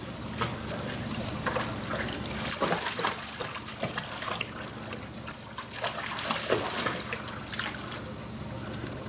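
Water trickling and splashing continuously at close range, a steady wet patter with a few louder spurts and no talking.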